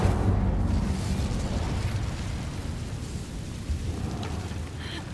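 Incendio fire spell cast in the Hogwarts Legacy video game: a loud, roaring burst of flame that rumbles continuously from start to finish.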